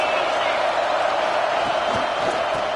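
Steady roar of a large stadium crowd at a football game, loud and continuous throughout, with scattered shouts and whoops rising from the mass of voices.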